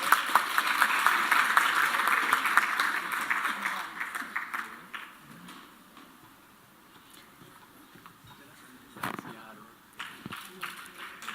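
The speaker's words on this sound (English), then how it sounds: "Clap for her, man." Applause from the audience at a household workers of the year awards ceremony, moderate clapping that fades after a few seconds, followed by quieter room noise and a few scattered sounds.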